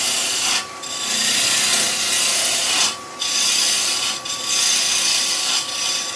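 A gouge cuts wood on a lathe during a turning session, a loud close hissing scrape in long continuous passes broken by short pauses between cuts.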